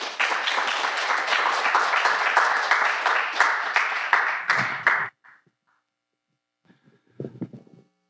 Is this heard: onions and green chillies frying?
no